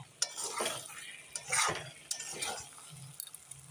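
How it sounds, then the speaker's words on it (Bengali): Chicken curry being stirred and sautéed in a pan, with scraping spoon strokes and a soft sizzle rising and falling in a steady rhythm, close up with no talking. "এখন আর একটু নেড়ে চেড়ে কষিয়ে নেব।"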